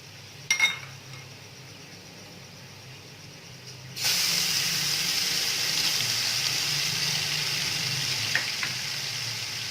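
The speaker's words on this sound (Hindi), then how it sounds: "अब हम इसमें अदरक लहसुन का पेस्ट डाल देंगे" Ginger garlic paste hits golden-brown fried onions for chicken haleem, and a quiet simmering hiss jumps into a louder, sustained sizzle partway through. The sizzle then carries on steadily nearby.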